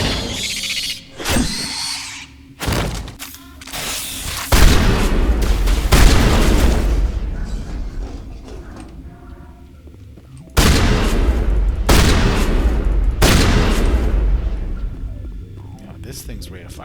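Gunfire in the video game Mass Effect: Legendary Edition on Noveria, loud booming bursts of shots in clusters with gaps between, mixed with game sound effects.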